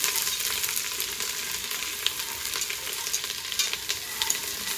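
Grated, drained onion frying in melted butter for turkey gravy, a steady crackling sizzle with light stirring clicks scattered through it, fairly close and unaccompanied by speech.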